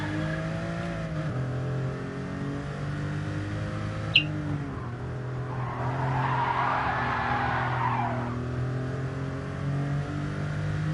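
Race cars in GT Sport at Laguna Seca roar past in a steady engine drone, with a brief sharp click and a swelling burst of tire squeal midway.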